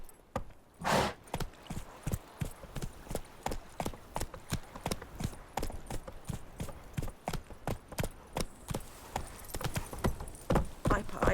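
Hooves of the horse Roach clip-clop steadily on a hard surface in The Witcher 3: Wild Hunt, a close, even walking rhythm of sharp knocks that continues throughout.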